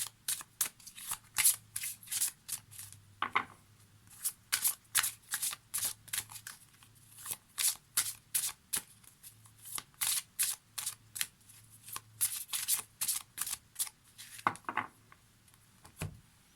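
Oracle cards are shuffled and cut for a reading, producing quick repeated riffling flutters and soft papery slaps in bursts, close and fairly quiet, with no talking.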